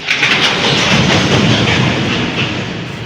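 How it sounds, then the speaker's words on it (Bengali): A train rumbles past close by, a loud steady roar of wheels and rails filling the whole stretch, with no voices. "ও বাবা আরেকটা ট্রেন আসবে"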